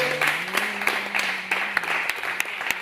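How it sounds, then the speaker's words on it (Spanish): A church congregation applauds, a loose rhythm of close, sharp handclaps with a few louder accents, while a low sustained voice or tone hums underneath throughout. "Den un aplauso al Señor."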